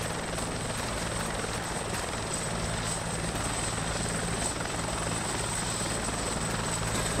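A helicopter picking up items holds close and loud, a constant engine roar with a steady rotor drone running unbroken throughout, with no voices.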